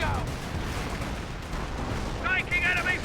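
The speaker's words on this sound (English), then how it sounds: "Here comes incendiary barrages now." An incendiary artillery barrage rumbles in the Company of Heroes 1 video game, with dense, continuous booming battle noise and some brief higher tones near the end.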